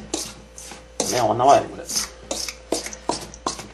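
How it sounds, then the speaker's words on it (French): A fork scrapes and mixes ladoo mixture in a bowl with short, rhythmic rasping strokes, close and distinct, while a person talks over the first part. "On va tout mélanger avec une fourchette."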